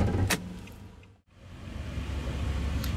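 Automatic power window on a 2017 Nissan Maxima Platinum, a close, steady motor whir that stops briefly with a thunk, then starts again and runs on evenly.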